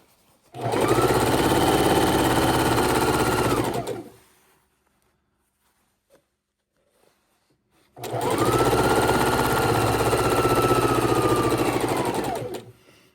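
Sewing machine stitching quilt rows together runs in two loud, steady bursts of a few seconds each, separated by a quiet pause with faint small clicks.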